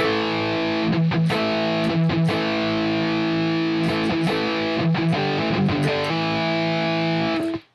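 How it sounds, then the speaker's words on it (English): A guitar played through heavy distortion, with thick sustained fuzzy chords and a few changes, loud and steady, then cutting off abruptly. "So when I turn on the distortion, you can see how this changes."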